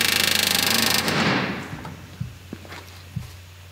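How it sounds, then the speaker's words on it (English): A pneumatic rivet gun hammers in a rapid burst on the aft deck of an RV-4 aircraft, then stops, leaving scattered light clunks and taps from the work at close range. "So there, all the riveting is done."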